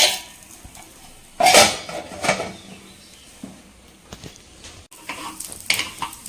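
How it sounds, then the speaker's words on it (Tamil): A lid set onto a cooking pan for a snack recipe: a sharp metallic clatter near the start, then quieter knocks and cutlery clinks over soft frying. "இப்போ மூடி போட்டுடலாம்."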